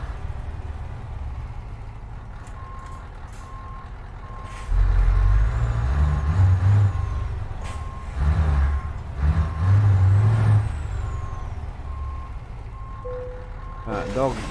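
A non-open-pipe truck in Euro Truck Simulator 2 rumbles steadily while reversing beeps repeat and air brakes hiss in bursts, with a voice talking over parts of it.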